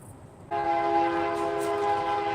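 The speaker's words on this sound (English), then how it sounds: "Train's going by." Train passing by with a sustained, steady horn blast that starts abruptly and holds loud and even over a low rumble of the passing cars.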